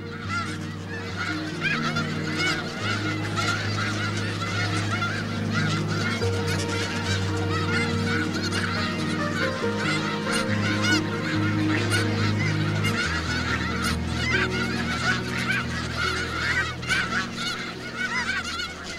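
A large flock of snow geese honks on winter farmland, a dense, continuous chorus of overlapping cries that carries loudly throughout.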